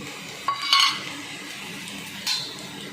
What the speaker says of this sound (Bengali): ভালো করে আমি নাড়াচাড়া করে নিচ্ছি